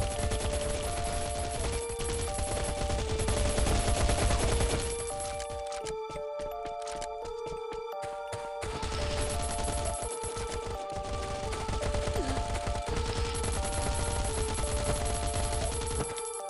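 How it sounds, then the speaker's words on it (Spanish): Rapid automatic gunfire rattles in sustained bursts as a player shoots enemies in Last Island of Survival, loud and continuous over a steady game backdrop with repeating tonal effects, no talk. "El jugador se encontraba quitándole la vida a un enemigo, cuando de pronto empieza a dispararle a otro enemigo."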